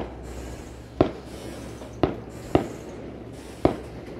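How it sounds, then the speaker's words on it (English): Fireworks go off over the Lake of the Ozarks in the evening: four sharp, distant pops at uneven intervals against a quiet outdoor background. "There's some fireworks."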